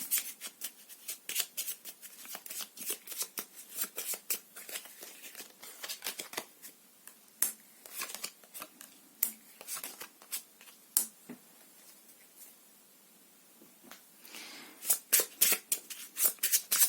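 Tarot cards shuffled by hand, a dense run of crisp riffling flicks and snaps up close, broken by brief pauses before quicker bursts resume near the end, with no talking.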